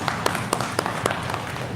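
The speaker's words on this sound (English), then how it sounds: "We applaud for you from the core of our heart" Applause from an audience at a Telangana High Court Advocates' Association live event, steady crowd clapping with a few sharper bursts across the short stretch.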